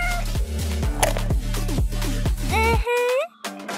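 A cat meows in a few rising, sliding calls near the end, heard over steady rhythmic background music with repeated bass thumps.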